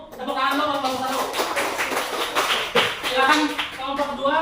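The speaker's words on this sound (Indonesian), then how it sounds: "Tepuk tangan dulu untuk kelompok 1." A classroom group applauds, with several pairs of hands clapping in a loose close patter while people speak over it.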